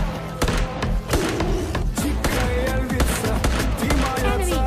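Gunfire in a battle royale video game: a dense run of sharp shots and thuds across the whole stretch, loud and close, with some speech mixed in.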